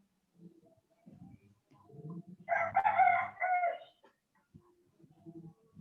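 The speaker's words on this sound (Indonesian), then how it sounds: "Ini malah ayam yang jawab ini." Rooster crows once in the background of an online biology lecture, a loud drawn-out call preceded and followed by softer clucking and faint sounds, heard over a quiet room.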